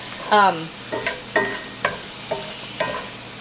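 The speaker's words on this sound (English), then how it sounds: "it doesn't take garlic long at all to cook" Garlic sautéing in a pan, with a low steady sizzle under a series of short, squeaky scrapes from stirring that come roughly every half second.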